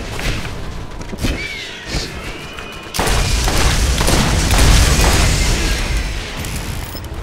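Mortar launcher explosions in the Borderlands video game land as heavy, rumbling booms, one big blast about midway swelling into a loud, sustained roar over continuous battle noise.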